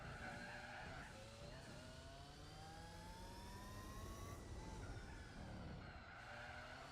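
A Formula 1 race car in Gran Turismo 4 screams past with rising engine whine as it shifts through gears, tires squealing, loud and continuous throughout.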